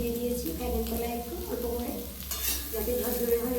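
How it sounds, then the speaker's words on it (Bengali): Cauliflower florets frying in a hot kadai for fried rice, a steady close sizzle with stirring scrapes throughout, quieter for a moment midway before the crackle rises again. "এটাই আমি কড়াই বসিয়ে দিয়েছি"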